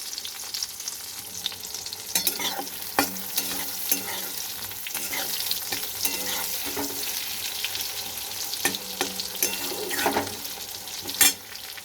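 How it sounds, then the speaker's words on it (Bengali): Sliced eggplant frying in hot oil in a pan, giving a steady, dense sizzle with intermittent clinks and scrapes from stirring, close up, with no one talking. "এবার আমি বেগুনগুলো ভালো করে ভেজে নেব।"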